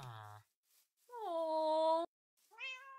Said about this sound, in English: See, that sounds sad. I'd feel really bad for the cat.